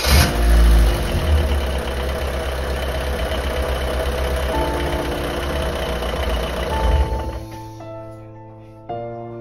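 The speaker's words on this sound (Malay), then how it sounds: "aku start enjin" A Proton Wira car engine idles after starting, a loud rough steady running hum with some knocking, then cuts off near the end leaving faint tones.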